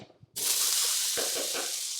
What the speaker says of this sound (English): You should hear that nice sear.